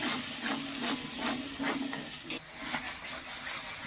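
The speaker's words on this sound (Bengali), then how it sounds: "এবার মশলাটাকে ভালো করে কষিয়ে নেব।" Spice masala stir-fried in a pan for an egg curry, with a continuous loud sizzle pulsing under rhythmic spatula strokes at close range.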